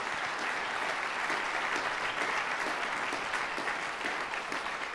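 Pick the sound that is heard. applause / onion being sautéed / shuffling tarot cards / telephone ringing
applause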